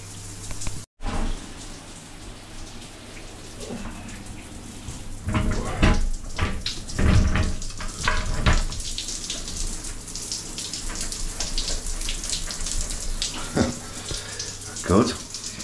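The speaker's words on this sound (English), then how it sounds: "I'm going to have a shower." A shower running with hot water, a steady broadband hiss of spray in a bed and breakfast bathroom, broken by a brief cut near the start and louder splashing bursts as water hits the body and tub.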